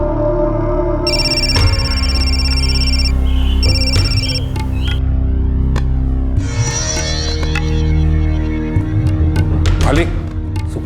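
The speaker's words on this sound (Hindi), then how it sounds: "सुखलाल जी का फोन है।" A phone ringtone rings in repeated bursts over a steady background hum, with people talking over and around it.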